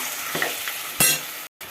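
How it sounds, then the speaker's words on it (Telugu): Mutton being stirred into softened onions in a pot for dum biryani, a spoon scraping through the sizzling mix with a couple of firm strokes over a steady frying hiss, then a brief sudden silence. "మటన్ వేసుకుందాం బాగా కలుపుకుని మళ్ళీ మూత పెట్టేసుకోండి"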